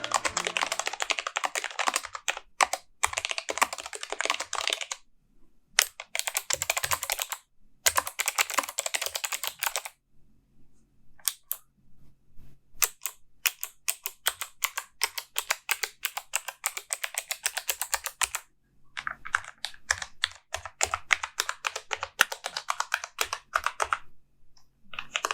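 Typing on a Logitech G815 keyboard with GL Linear and GL Clicky switches, close, crisp bursts of rapid keystrokes separated by short pauses, alone with no talk.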